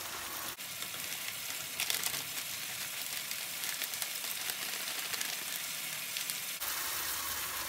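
Frozen corn frying in a tablespoon of butter in a pan, a continuous crackling sizzle close up, with a brief sharp rustle as the kernels go in and the hiss dropping away near the end.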